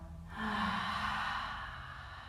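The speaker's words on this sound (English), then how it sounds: "Big breath out" A big exhale through the mouth during yoga breathing, one long, breathy out-breath that starts abruptly, swells, then slowly fades, close and clear with no talk.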